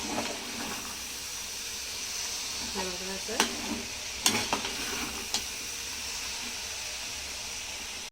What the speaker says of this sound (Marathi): असं मध्ये मध्ये याला परतत राहायचं, नाही तर काय बुडाला लागेल आपली भाजी, परतून जाईल.